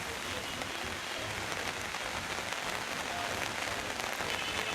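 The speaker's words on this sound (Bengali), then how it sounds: "গত 1 ঘন্টা ধরে মুষলধারে বর্ষণ হচ্ছে বন্দরনগরীতে" Heavy torrential rain pours down on a flooded, waterlogged main road in Chattogram, a dense, continuous hiss and patter of drops on water and surfaces heard steadily up close.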